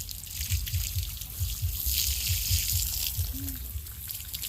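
Water splashes and trickles while an animal is bathed outdoors, a steady close wash of liquid over a rhythmic low thumping beat, with a brief chirp partway through.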